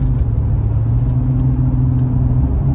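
Infiniti G35 coupe engine cruising at about 3,000 RPM in fifth gear, a loud, steady low drone with a constant whir and no rise or fall throughout.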